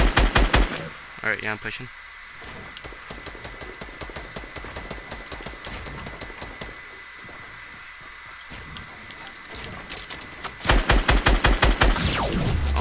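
Rapid gunfire rattles through a shooter video game, dense bursts of automatic fire running almost nonstop with louder volleys at the start and end, while players talk over it.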